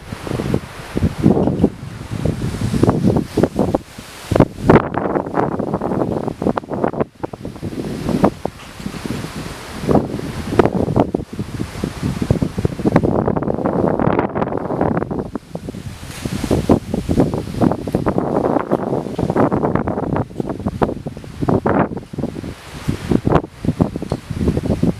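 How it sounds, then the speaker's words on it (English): Strong thunderstorm wind under a wall cloud, loud continuous roaring gusts buffeting the microphone with rustling debris, rising and falling in waves throughout. "That was a lot of good wind."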